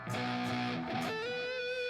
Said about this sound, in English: So like this is bridge pickup in distortion.